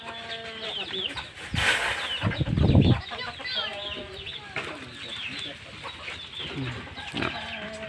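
Chickens cluck and squawk nearby while a person talks over the farmyard noise.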